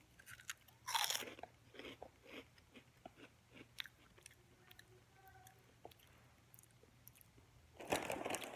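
Someone bites into and chews shrimp crackers up close, making loud crisp crunches that open and close the stretch, with softer, irregular chewing crackles and squishes in between.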